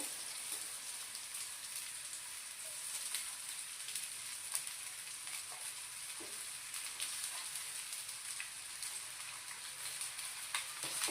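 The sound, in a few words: leftover morning rice frying in a pan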